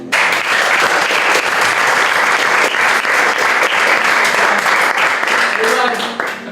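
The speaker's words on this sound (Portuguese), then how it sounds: "Aplausos." A church congregation breaks into loud, dense applause that keeps going strongly before tapering near the end, where a voice briefly comes in.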